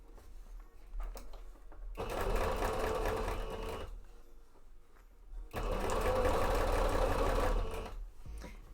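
A sewing machine stitches a cape mock-up in two loud, steady bursts of about two and three seconds each, separated by a quieter pause.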